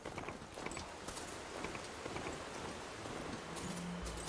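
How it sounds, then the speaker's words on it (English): Rain falling in the open-world game Horizon Forbidden West, a soft, continuous patter of drops with occasional light taps, faint and steady with no talk over it. "Oh, it's warm enough to rain now"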